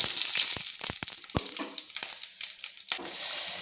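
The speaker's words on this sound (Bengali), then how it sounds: "গোটা জিরে দিয়ে আমি ভালো করে মেরে নিলাম" Whole cumin, cinnamon and bay leaves sizzle in hot oil with a bright, steady frying hiss and crackle, punctuated by a few sharp pops and stirring scrapes near the start.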